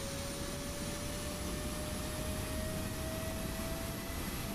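In a flight simulator, the PMDG 777-200ER's auxiliary power unit exhaust gives a steady jet-like roar with a faint whining tone, constant and unbroken, with no voices over it.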